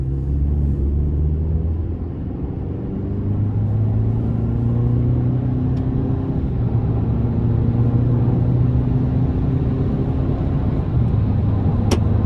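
A 2024 GMC Sierra 1500 Elevation pickup with the 2.7 turbo four-cylinder accelerating under moderate throttle, a loud, steady engine drone and road rumble from inside the cab that rises gradually in pitch.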